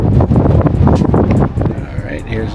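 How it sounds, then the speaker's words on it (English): Strong wind gusts batter the microphone on top of the Crazy Horse Memorial, rough loud buffeting in bursts that ease off near the end, with people talking through it. "it's getting pretty windy up here"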